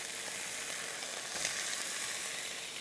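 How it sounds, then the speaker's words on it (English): A cheeseburger patty sears in a very hot skillet, giving a loud, steady, close-up sizzle and crackle that runs unbroken for a few seconds with no voices. "very hot skillet and a good crust on the burger"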